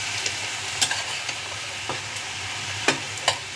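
Winter vegetables, eggplant and chopped cabbage among them, frying for a small-fish chorchori, with a quiet steady sizzle and several sharp scraping spatula strokes spaced apart.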